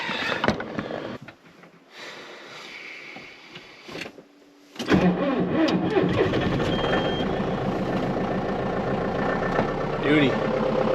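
A John Deere 6110 diesel tractor cranks after glow plugging, a few quiet starter bursts giving way to the engine catching and settling into a loud, rattling idle nearby.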